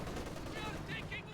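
Gunfire in the video game Company of Heroes 2, rapid bursts of shots over dense battle noise, short and moderately loud, with a voice talking faintly underneath.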